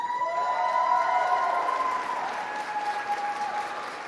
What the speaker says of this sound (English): let's give our Chancellor a round of applause